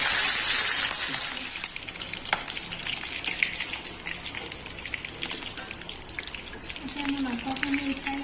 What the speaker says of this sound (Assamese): এতিয়া মই মাংসখিনি ভাজি ল'ম